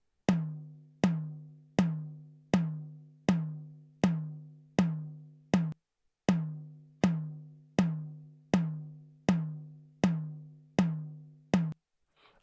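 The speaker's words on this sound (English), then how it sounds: "the tom is just playing on the drive" A single tuned tom drum in a riddim beat struck in an even, steady pattern, each hit ringing briefly and decaying before the next, with a short pause midway.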